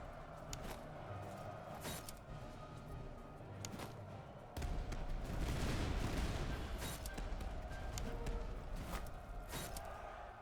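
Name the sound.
artillery fire in a video game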